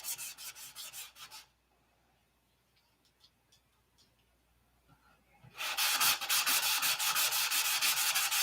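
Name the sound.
sanding primer off a surface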